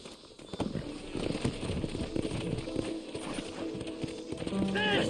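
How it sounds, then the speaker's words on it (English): Horse hooves clip-clop in the Red Dead Redemption video game, a rhythmic run of hoof beats mixed with game effects and background sounds, with voices talking over them. "Horses are over here."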